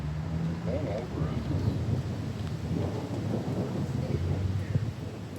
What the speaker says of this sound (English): Do you have your sound on so you can hear the thunder?